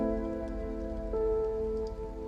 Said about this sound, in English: So I love to add some like rain and fire.